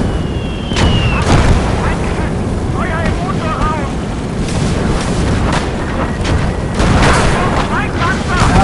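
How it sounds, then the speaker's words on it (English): 80 mm mortar explosions in the World War II game Gates of Hell, loud booming blasts over continuous wind-like battlefield noise, with voices and scattered game sounds mixed in. "You've got 80 mil mortars."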